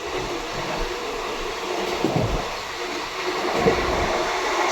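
A 04452 Howrah–New Delhi special train runs through a junction without stopping: a steady, loud rumble of wheels and carriages with faint clatter, close by and continuous throughout.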